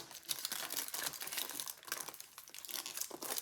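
Aluminum foil folded by hand, continuous soft crinkling and crumpling with small rustling bursts, quiet and close, no voices.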